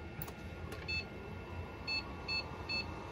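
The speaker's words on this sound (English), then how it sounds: "I don't know if there's beep codes with this or not" Short electronic beeps from an HP Pavilion 6535 desktop computer at power-on with no RAM installed, four brief tones spaced about a second apart over a steady fan hum.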